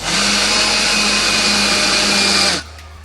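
A blender filled with water runs loudly at a steady high speed with a constant whirring hum, then abruptly cuts off near the end, leaving a quiet room.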